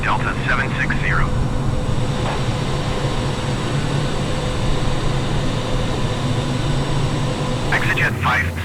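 An Etihad Boeing 787 airliner in flight on a route from Chicago to Philadelphia: a loud, steady, broadband engine and cabin roar throughout, with brief faint voice-like chirps near the start and end.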